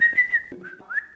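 A person whistles a short, varied tune of a few clear notes, sliding in pitch, close and alone with no talk.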